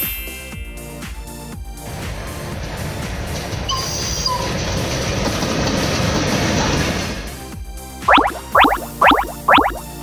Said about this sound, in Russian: Отлично, это зеленый поезд.